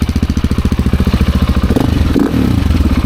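A tuned 2024 GasGas ES700 motorcycle with a full titanium exhaust runs close by, its engine pulsing in a steady, rapid rhythm before revving up briefly, loud and alone with no talk.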